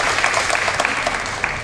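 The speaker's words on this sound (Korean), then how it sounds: "頑張ってくださった方に拍手を送りましょう" Audience applause at a mental health seminar lecture, a dense steady wash of many hands clapping together, fairly loud and continuous through the whole moment.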